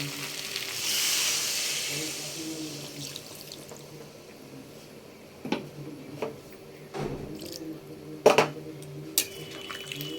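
Water poured onto a frying spice paste for Bengali shukto bursts into a loud hissing rush, then settles into a quieter simmering sizzle with occasional stirring knocks.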